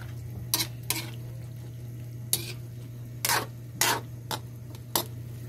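Sautéed bottle gourd (upo) in a pot, with a steady low hum underneath and scattered sharp utensil scrapes and clinks against the pot, fairly quiet and without talk.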